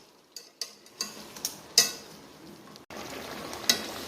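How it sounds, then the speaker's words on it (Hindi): Tomatoes being broken up and stirred inside a mutton karahi pan for a Peshawari charsi karahi, giving soft squelching taps and scraping strokes at a steady pace, with a constant frying sizzle underneath. One louder clatter stands out near the middle. "अब इन टमाटरों को अच्छा सा इसके अंदर ही तोड़ देंगे।"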